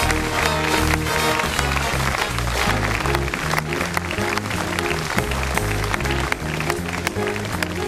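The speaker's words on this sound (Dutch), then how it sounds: "Ongelooflijk applaus voor deze twee heren" An audience applauds two skydivers at an outdoor event, the clapping running under loud, driving music with a steady beat, a thick, continuous wash of hands for several seconds.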